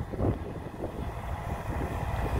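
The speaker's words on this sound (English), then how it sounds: "I mean, it's really windy." Strong storm wind on New Brunswick's North Shore buffeting the microphone, a low continuous rumble that swells and gusts without pause.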